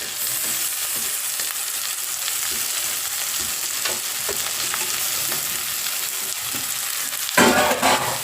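Carrot, leeks and cabbage sautéing in a hot pan for a keema samosa filling give a steady, loud sizzle, with a sharper scraping stir near the end and no voices.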